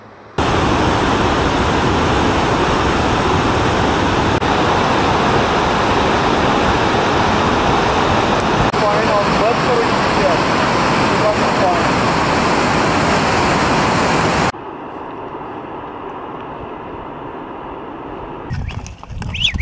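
A glacial torrent rushes out of the Baltoro glacier in Pakistan's Karakoram, a loud, dense, continuous roar of whitewater that cuts off abruptly to quieter ambience near the end.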